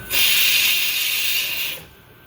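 Dal comes to a boil in a pot on medium flame, giving off a loud, steady steam hiss close by that lasts under two seconds and then cuts off abruptly.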